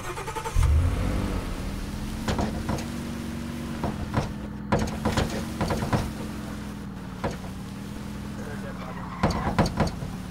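A vehicle driving in the Roblox game Aftermath, a steady engine drone with a sustained low hum and scattered clicks and knocks, heard under players talking.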